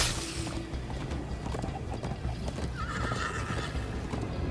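A horse in the Minecraft: Story Mode video game whinnies and gallops, its neigh rising clearly over quick, rhythmic clip-clopping hooves and a busy, dense background of game sound.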